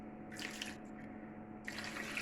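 Water runs steadily into a bowl while pig's head meat is washed in vinegar and water, a continuous close splashing stream with two louder bursts of spattering as the flow hits the meat.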